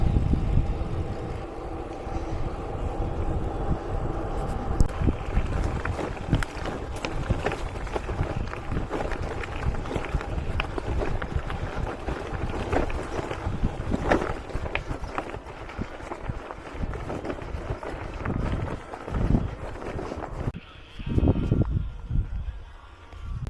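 Headwind buffeting a touring cyclist on a long loaded day's ride, a continuous rough gusty roar with irregular bursts and thumps, fairly loud and close throughout.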